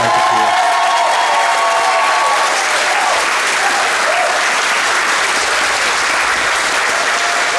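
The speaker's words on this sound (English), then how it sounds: "Give them a round of applause." A crowd of parents and guests applauds the John F. Kennedy class of 2021 at a moving-up ceremony, a loud, continuous wash of clapping that stays level throughout without pause.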